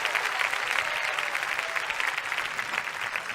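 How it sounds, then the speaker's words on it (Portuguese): Audience in a church applauds together, a dense, even clapping that holds steady at moderate volume throughout, without any voices over it. "Se é para aplaudir, é todo mundo junto, com vontade"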